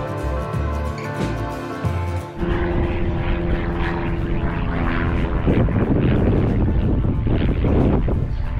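Strong wind blusters across a microphone on an outdoor path near Dunstanburgh Castle, a loud continuous rumbling roar with gusty surges.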